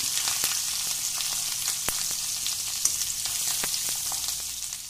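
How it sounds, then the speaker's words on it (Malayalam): Salted dried fish frying in a pan for a fish powder, a continuous crackling sizzle dotted with sharp pops and spits, close and with no talk. "അപ്പൊ പിന്നെ ഇതൊന്ന് വറുത്തെടുക്കുക മാത്രം."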